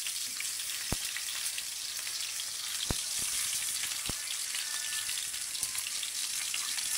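Onions frying in a pan give a steady, bright sizzle throughout, broken by a few sharp isolated pops and faint tapping, close and with no talking.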